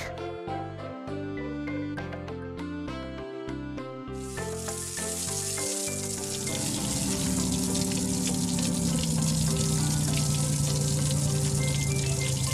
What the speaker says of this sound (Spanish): Se está dando una ducha.